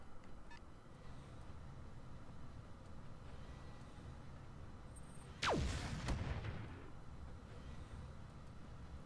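Gunfire in the video game Roguepoint: a sharp shot sweeps down through the mix around the middle, followed by a short burst, over a steady bed of ambient game noise and rumble.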